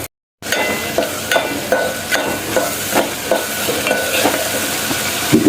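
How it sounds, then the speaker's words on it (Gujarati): Tomatoes sizzle in a hot pan of spice tempering while a spoon stirs and scrapes in a regular rhythm, fairly close. "હવે નાખી દઈશું ટમેટા. આર્યો વઘાર થઈ જશે."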